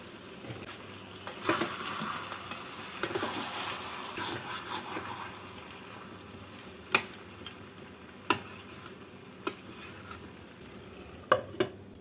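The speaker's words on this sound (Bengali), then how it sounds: "ঘি ভাজা মশলা আর ঘি দিয়ে নাড়াচাড়া করে দু মিনিট ঢাকা দিয়ে রেখে নামিয়ে নেব" Fish-head and cabbage curry being stirred with ghee in a pan: a soft steady sizzle underneath, with several sharp scraping clinks of the spoon against the pot near the end.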